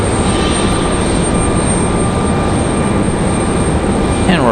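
A small airplane taxies toward the runway at Raleigh-Durham airport, its steady broadband engine roar loud and continuous throughout, with a faint rising whine near the end.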